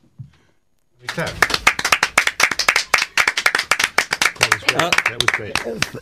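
Audience clapping after a spoken performance at a talk, a burst of sharp, rhythmic claps starting abruptly after a brief pause and continuing loudly and irregularly to the end.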